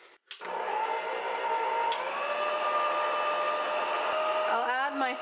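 A Hamilton Beach 63325 6-speed stand mixer mixing butter and sugar, running as a steady, loud motor whine with a constant tonal hum from start to finish after a brief click at the start.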